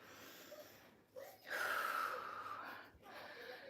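Deep, audible breaths after a glute HIIT cardio workout, a slow inhale and a longer exhale rising and falling close to the microphone in a quiet room.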